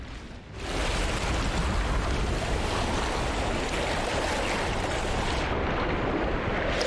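Steady rush of big ocean waves in the No Man's Sky video game, a loud continuous roar of surf washing on without pause and easing slightly near the end.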